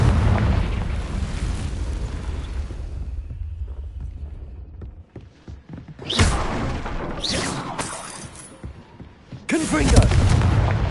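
Confringo blasting spells in Hogwarts Legacy set off loud booming explosions. A heavy rumbling blast is followed by several sharp bursts with crackling debris, and a voice is heard briefly.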